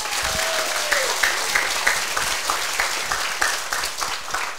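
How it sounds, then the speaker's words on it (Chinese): An audience at a Taiwanese senior administrative training class claps hands in a steady, rhythmic pattern, with the individual claps blending into continuous applause from a nearby crowd. "家己拍手去！"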